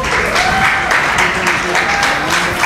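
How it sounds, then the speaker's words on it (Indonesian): Audience clapping for fellow students at a university public lecture for new communications students, a steady loud wash of applause filling the whole stretch without pause. "Boleh tepuk tangannya dulu buat teman-temannya."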